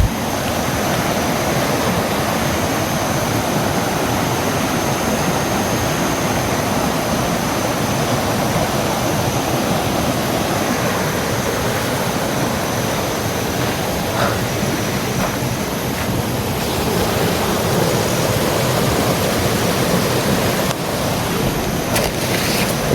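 A river runs steadily outdoors, a continuous broadband rush of flowing water that holds even and fairly loud throughout, with no voices over it.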